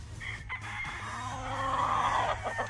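A fighting rooster of a straight gamefarm breed crows one long, strained call close by, rising and holding before trailing off, over a low steady background hum.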